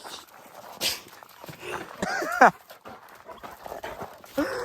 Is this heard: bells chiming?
no